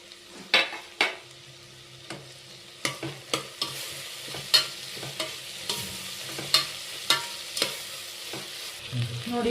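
Chopped mint and coriander frying in hot oil for a peas pulao, giving a steady soft sizzle broken by repeated sharp scrapes and taps of a spoon stirring against the pan.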